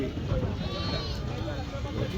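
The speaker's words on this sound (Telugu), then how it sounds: "గొర్రెలు ఉన్నాయి" Sheep at the Pebbair sheep market, several bleats rising over a busy crowd with people talking nearby throughout.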